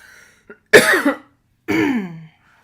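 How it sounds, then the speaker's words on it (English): Two loud, harsh coughs close to the microphone, separated by a brief pause, with a faint click before them. "yes, I still have a little bit of a cough"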